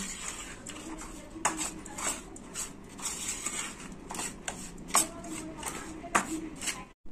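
Neem flower pakora batter with a spoonful of cornflour is stirred and mixed in a bowl, giving repeated soft scraping and light clinking strokes in an irregular rhythm, close and moderately loud, with no talking.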